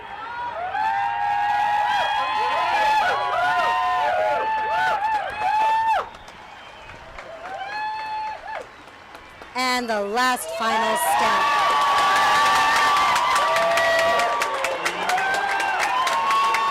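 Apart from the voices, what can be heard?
crowd cheering and applauding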